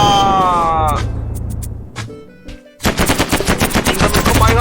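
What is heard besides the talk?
gunfire in a space war map in the video game Mini World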